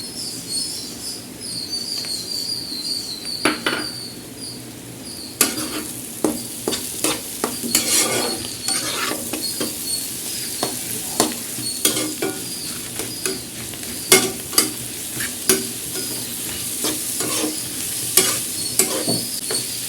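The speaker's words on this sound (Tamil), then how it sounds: "கலரிட்டே இருக்கணும், ஏன்னா அடி பிடிச்சிடும்." Ginger and garlic frying over low heat in a pan, a steady sizzle broken by frequent scraping stirs of a spatula or spoon against the metal, close and clear with no talking.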